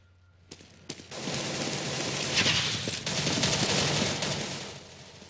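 Light machine gun in a video game firing: a couple of single shots, then a long sustained burst of rapid automatic fire, loud and close, with no talking.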